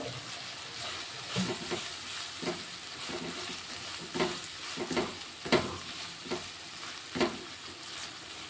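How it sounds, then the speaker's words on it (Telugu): Salted onions fry in a pan on the way to browning for a tomato curry, a soft continuous sizzle with occasional stirring scrapes and knocks, close and moderately quiet. "ఉల్లిగడ్డలు అయితే ఫ్రై అవుతున్నాయి"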